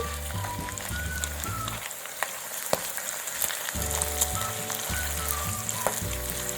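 Green chili peppers frying in oil over low heat for crispy Korean gochu bugak, a steady close sizzle with crackling pops that dips briefly midway, with no talking.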